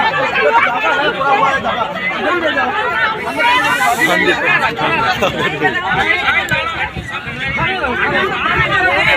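Dense crowd chatter fills a packed special train heading to the Gangasagar Mela, with many overlapping voices loud and close throughout, forming a continuous babble.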